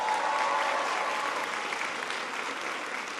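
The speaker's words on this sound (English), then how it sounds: "Give him a big round of applause." A large crowd at a presidential speech on education bursts into dense, sustained applause, a loud, continuous wash of clapping that holds steady and eases slightly toward the end.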